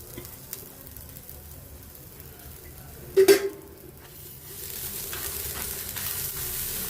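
Potato, green peas, capsicum and fresh coconut fry in a pan as a dry palya, a soft steady sizzle with one sharp clatter of a spoon partway through, the frying growing a little louder toward the end.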